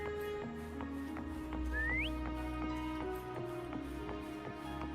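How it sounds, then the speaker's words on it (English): A player whistles to call a mount in the video game Wuthering Waves, a single brief rising whistle heard over steady game music and ambience. "Try whistling."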